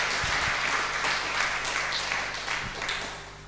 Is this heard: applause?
yes